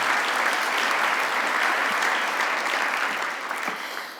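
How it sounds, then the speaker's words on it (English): A large audience applauds award winners at an alumni awards celebration, a dense, steady wash of clapping that holds loud and even throughout before easing slightly at the end. "One more round of applause for all of our winners so far."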